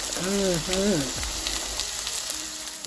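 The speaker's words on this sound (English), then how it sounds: "Now we're going to cook our onions until they are translucent." Onions frying in olive oil over medium-high heat give a steady sizzle, with a brief stretch of speech near the start over the crackle.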